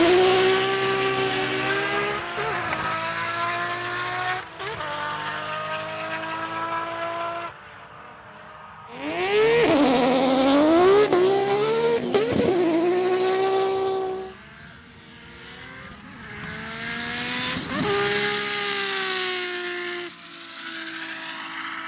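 Tuned Nissan GT-R street cars, including a 600 all-wheel horsepower example, racing on an Australian runway; engines rev up and down in long whining sweeps with turbo whistle, loud and close, surging several times.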